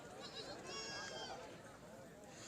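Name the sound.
goat bleating at livestock market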